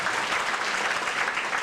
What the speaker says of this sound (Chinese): 我们给他鼓掌